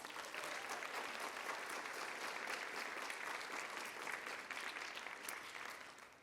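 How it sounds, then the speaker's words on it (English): Audience at a high school music night and honor society induction ceremony giving a sustained round of applause, dense steady clapping throughout that tapers slightly at the end. "Let's give them a round of applause"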